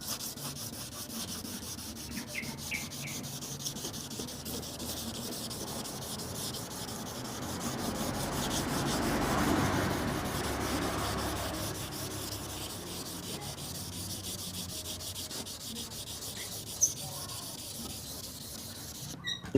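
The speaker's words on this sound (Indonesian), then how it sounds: "Kita gosok semuanya." Sandpaper rubbed by hand over a plastic car headlamp lens during restoration, a soft continuous scratchy rasping that swells slightly toward the middle, fairly quiet and close, with no voices.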